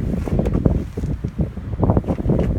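Gusty wind buffeting the microphone outdoors, a steady low rumble with bursts and swells, continuous throughout with no talking.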